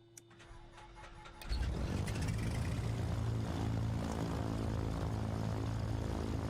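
The left engine of a MilViz 310R twin in Microsoft Flight Simulator cranks over with faint clicks, then fires and settles into a loud, steady propeller drone that runs on alone.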